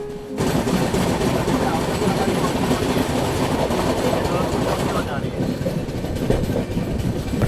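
The New Delhi–Daulatpur Chowk Jan Shatabdi Express rushing past on the adjacent track near Ambala Cantt, heard from inside another moving train as a loud, continuous roar of wheels and rattling carriages.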